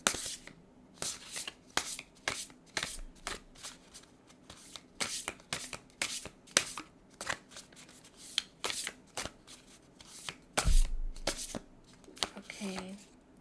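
A deck of tarot cards is shuffled repeatedly, giving a steady run of crisp riffling bursts, close and fairly loud, with brief pauses between shuffles and a soft knock near the end.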